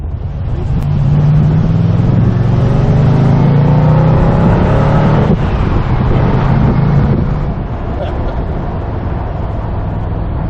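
The V8 engine of an MG RV8 sports car roars as it accelerates up through the revs, a deep throaty growl over heavy wind noise, loud and close.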